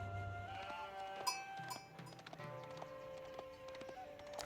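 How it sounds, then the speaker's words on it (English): Sheep bleat in Age of Empires IV game audio, mixed with clip-clopping hooves and in-game livestock sounds, several short calls over a busy layered game soundscape without talk. "the Khan of Vortix is on the other side here, stealing the sheep of Kasva"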